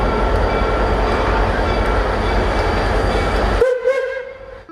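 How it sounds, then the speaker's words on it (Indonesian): Toy train locomotive giving off a loud, steady rumbling rattle with a high tonal hum, running continuously for about three and a half seconds before cutting off, leaving a brief fading whine and clatter. "Wow, lokomotif kereta api."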